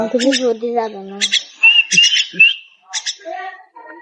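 A wild bird gives loud, close whistling chirps and tweets in short bursts, with pauses between calls and no talking.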